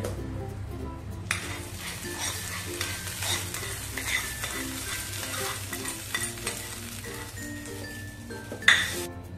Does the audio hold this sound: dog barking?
no